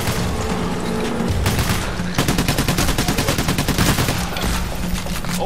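Sustained gunfire in the video game Payday: The Heist: rapid automatic bursts and overlapping shots, loud and dense throughout with a brief lull before a fresh volley.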